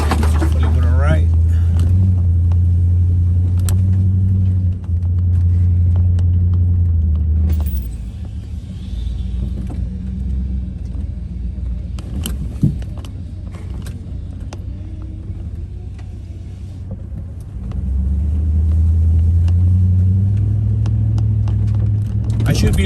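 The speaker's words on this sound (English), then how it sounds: "I'm still driving on 2-wheel drive, so hopefully we're all right." A vehicle in two-wheel drive on a muddy trail gives a loud, steady engine rumble that drops away in the middle and returns near the end, with a voice faintly present.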